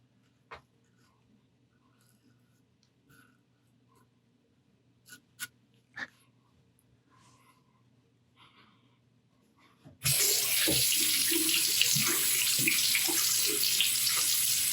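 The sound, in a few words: tap water running to rinse shaving cream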